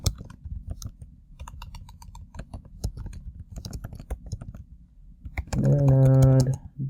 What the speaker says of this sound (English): let me go ahead and type in the actual mirror node.